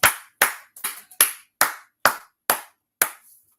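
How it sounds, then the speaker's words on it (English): Eight sharp, evenly spaced claps ring out close and loud at a steady beat, each crisp slap followed by a short decay, with no talking. "clap it up"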